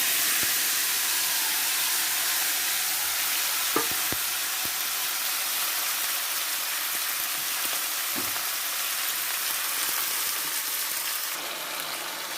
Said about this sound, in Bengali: মাছটাকে এই কালো জিরে থেকে সারা কড়াইতে ভালো করে একটু মাখিয়ে দিচ্ছি।